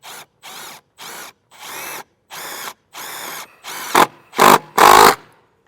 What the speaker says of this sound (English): We're going to drive them up through these 2 holes into this rail.